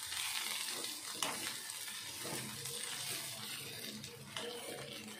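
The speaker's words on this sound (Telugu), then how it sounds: "చూశారు కదండి ఇలా బాగా ఫ్రై అవ్వాలి, మంచిగా ఫ్రై బాగా ఫ్రై అయిన తర్వాత" Cluster beans (gorchikkudu) fry in a pan before garlic chilli powder goes in, making a faint, steady sizzle with occasional stirring clicks and scrapes and no talking.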